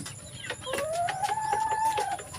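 Rhode Island Red and native crossbred chickens, two hens among them, cluck and crow nearby, a drawn-out call rising over steady short clucks from several birds.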